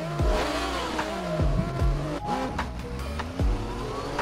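A Yamaha MT-125 motorcycle revs in the racing game RIDE 4, played on a Logitech G29 wheel, its engine whining up repeatedly and dropping sharply at each gear change, steady and upfront with no talk.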